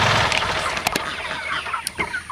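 Farm chickens cluck close by in a brief busy burst, with a few sharp squawks standing out over a continuous background hum.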